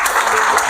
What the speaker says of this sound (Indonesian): di akhir ini kita beri tepuk aplaus dulu semua